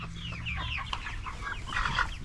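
Meat chickens around day 45 keep up a dense, overlapping chatter of clucks and chirps close by, with a low rumble underneath and no talk.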